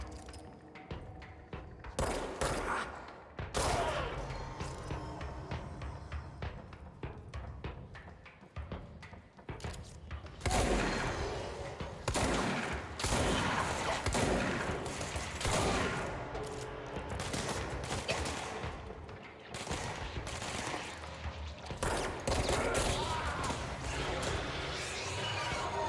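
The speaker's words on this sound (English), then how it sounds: "Shooting up or down?" Rapid bursts of gunfire from the video game Control, dense and repeated over a steady bed of game noise and music, sometimes in quick volleys, with a voice talking now and then.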